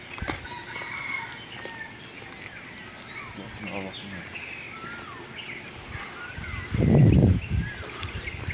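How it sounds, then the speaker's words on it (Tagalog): A flock of geese at a lakeside resort calls with scattered honks and chatter, then breaks into a louder burst of cackling near the end, while people talk nearby. "Ang dami gansa."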